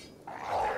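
A dog in the video game Kenshi lets out a short, low growl that swells over less than a second, with no talk over it.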